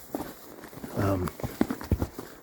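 Horses and mules clop along at a walk on a pack trip, with a few distinct hoof strikes on hard ground alongside a brief burst of talking nearby.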